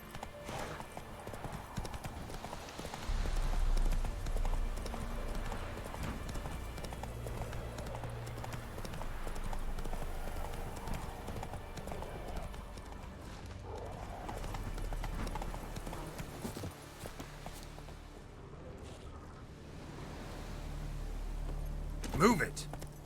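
In the video game The Witcher 3, a horse's hooves clip-clop in a steady rhythm. A low music bed plays under them, a brief whinny breaks in, and a voice can be heard at moments.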